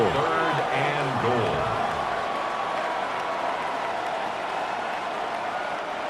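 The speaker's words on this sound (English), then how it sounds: "This crowd doing all they can" Stadium crowd noise from the Madden 26 football game, a broad steady roar of cheering that fades gradually, with a commentator's voice talking over the start.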